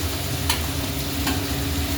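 Spices are being stirred and fried in a wok for a spicy tangra fish tel jhal curry: a dense, continuous sizzle with two quick scraping strokes of the spatula, and no one talking.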